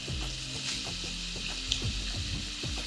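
Cumin seeds sautéing in a pan for chicken sabudana kichadi, a close steady sizzle and fry with scraping stir strokes recurring throughout and no talk.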